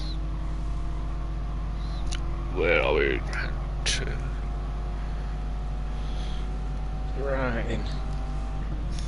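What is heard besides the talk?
Dodge Viper engine in racing video game, pit lane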